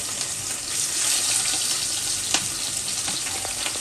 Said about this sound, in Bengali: এখানে আমি এক এক করে মাছগুলো দিয়ে দেবো। একদম অল্প ভেজে নেবো